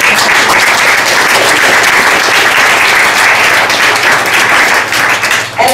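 An audience at a women's leadership awards ceremony claps loudly and continuously, a dense, sustained applause filling the room that dips briefly just before the end.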